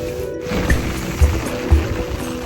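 Heavy rain pours steadily in a rural village, a dense continuous wash of water with a few louder splashes and drips, close and fairly loud.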